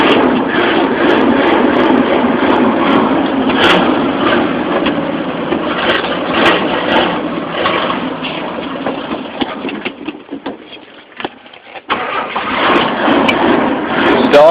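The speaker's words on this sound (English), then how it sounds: "That's carbureted Ford, 6-cylinder, in line." A carbureted inline six-cylinder engine in a Ford F150 runs loud and close after a cold start, with a steady rough idle that dips briefly and then recovers.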